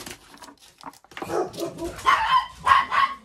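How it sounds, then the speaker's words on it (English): A large part-Great Pyrenees dog barks nearby, a few loud, close woofs building toward the end, with some whimpery yips mixed in and no talking. "I am dog sitting my daughter's dog, which is a fairly large dog. It's part Great Pyrenees,"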